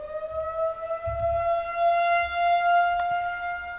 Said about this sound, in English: This is a great time to test the tornado siren.